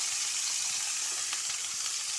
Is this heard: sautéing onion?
yes